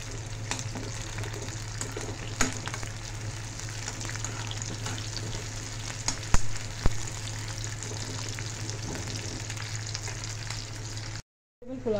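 Whole spices for vegetable pulao, including shahjeera, cinnamon, black and green cardamom, black pepper and cloves, roast in a pan with a steady close sizzle. Occasional utensil knocks come through, and a brief cut to silence follows near the end.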